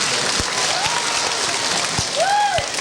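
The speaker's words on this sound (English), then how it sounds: "How about a nice round of applause for yourself?" A school audience at a 1982 magic show applauds itself, steady crowd clapping throughout with a few sharper individual claps and a faint tonal sound rising over it.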